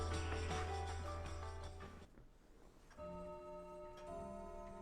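Loud, steady ticking of a big clock in a mansion lobby in the Umineko When They Cry video game near midnight, regular beats with a brief quieter gap midway, no voices.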